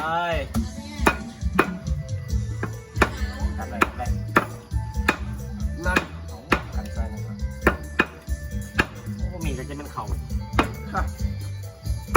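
A knife strikes a cutting board in repeated sharp chops while food is prepared for grilled chicken and lamb ribs, an uneven rhythm of close knocks with clattering pans and people talking over it.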